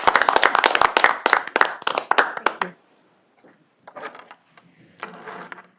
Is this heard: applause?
yes